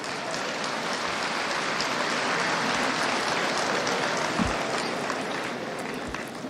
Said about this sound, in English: A resounding round of applause for ICAN.